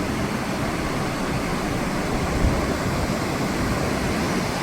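Water pouring into the chamber of Erie Canal Lock 17 to refill it, a steady broad roaring rush heard close and unbroken.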